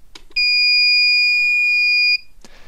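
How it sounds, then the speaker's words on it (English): A tiny RC flamethrower's warning buzzer sounds one loud, steady high-pitched tone for nearly two seconds, close up, with faint handling noises before and after. "the LEDs light up in orange and the buzzer is sounding"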